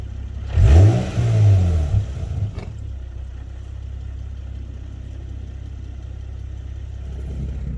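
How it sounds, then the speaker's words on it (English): An Infiniti G37 coupe engine with exhaust cutouts closed blips through one rev that rises and falls over about two seconds, then settles into a steady low idle rumble, heard from outside the car. "I want to go rev it like to 2 or something like that."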